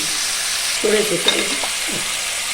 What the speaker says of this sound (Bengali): চিংড়ি মাছটাকে হালকা করে ভেজে নেব, বেশি ভাজবো না